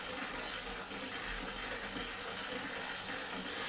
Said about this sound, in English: And now I think I can add the last portion of water.